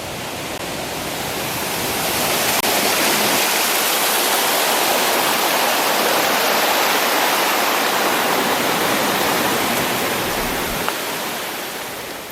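A 174-metre waterfall cascades on a mountain trail, giving a loud, steady, broadband roar of falling water that continues unbroken throughout, with no talk.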